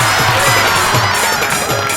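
Loud, dense applause and cheering from a crowd at a Haryanvi ragni singing competition in Dehgaon, a steady wash of clapping that holds for the full two seconds.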